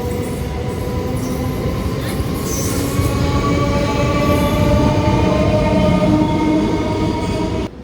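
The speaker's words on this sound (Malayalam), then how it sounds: "ഒരു സബർബൻ മോഡൽ ട്രെയിൻ തന്നെയാണിത്" MMTS suburban electric train running through Charlapalli railway station, a loud close steady rumble of wheels on rails with squealing metallic tones held throughout, cutting off sharply at the end.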